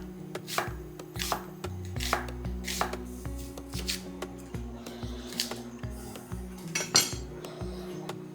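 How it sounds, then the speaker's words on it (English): An onion being sliced thinly with a knife on a chopping board, a steady series of crisp close knife strikes with light clinks of kitchenware while something hums quietly in the background. "we can just chop the onion and quite thin slices"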